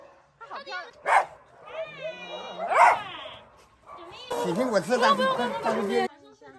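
Several dogs bark, yip and whimper in an enclosed room at a homeless dog shelter in China, with short overlapping yelps and a burst of louder, busier barking toward the end.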